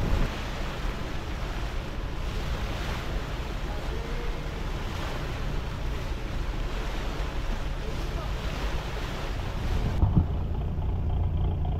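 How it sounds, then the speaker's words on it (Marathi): A fishing boat sets out toward the deep sea, with a steady, close roar of engine, wind and rushing water that holds loud and even throughout and lifts slightly near the end. "आता आमची बोट सुटली आहे खोल समुद्रामध्ये जाण्यासाठी."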